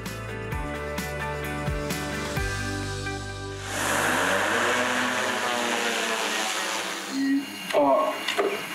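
Drones fly overhead escorting a herd on the move. After a stretch of music, a steady broadband whirring drone sets in and holds for several seconds, with brief louder swells near the end.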